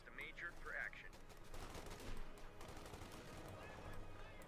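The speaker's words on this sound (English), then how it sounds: "MG42 running straight, getting suppressed." An MG42 machine gun fires in the Company of Heroes 2 video game as quiet rapid bursts of gunfire under distant battle noise, with an early whistling tone.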